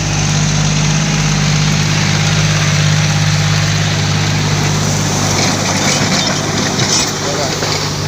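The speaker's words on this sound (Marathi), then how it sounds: "उभ्या सोयाबीनमध्ये ट्रॅक्टर फिरवित आहे." A tractor engine runs steadily and loudly, close by, as it drives through a standing soybean field, a constant low rumble with a droning hum throughout and a voice faintly audible over it.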